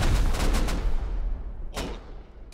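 Gunfire in the survival shooter video game Rust, a loud rapid burst of shots at the start fading into a reverberant tail, followed by two more separate sharp shots near the end, without speech.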